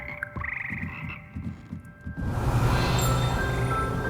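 A chorus of frogs croaks in Hogwarts Legacy, with rapid pulsing calls at first, then a louder, fuller wave of croaking that fills the rest of the moment alongside the game's ambient hum.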